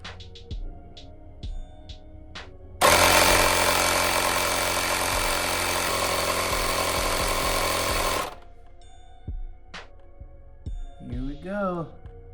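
Electric pump gun for transmission fluid kicks on abruptly, running a loud, steady buzzing drone for about five seconds before cutting off, with scattered clicks and handling noises and a brief voice afterward.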